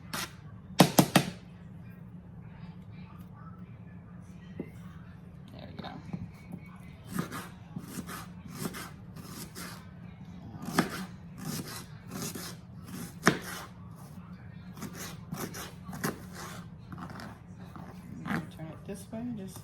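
A knife roughly chops an onion on a cutting board for a homemade spaghetti meat sauce, giving irregular sharp taps and thuds spread over about twenty seconds over a low background hum.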